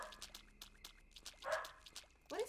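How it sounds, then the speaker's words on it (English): Dog barking in the horror video game Yomawari: Midnight Shadows, a few short yips and woofs over a steady game backdrop of rhythmic ticking, with a louder bark near the end. "What is he barking at?"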